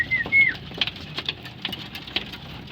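Pigeons in a loft make soft, low cooing calls among light fluttering and scratching, with a brief higher chirp near the start; the sounds stay faint and close.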